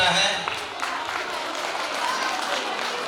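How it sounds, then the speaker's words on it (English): Audience applauding at a primary school annual function, a dense wash of clapping that is loudest at the start, then continues at an even level while a voice talks over it. "please have a big round of applause"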